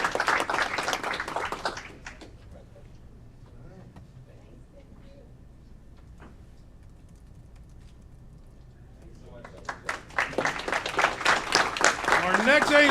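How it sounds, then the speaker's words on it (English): Applause at a city council meeting in Aurora, a burst of many hands clapping that fades into a quiet room, then swells again loudly mixed with cheers and voices. "Give him a round of applause."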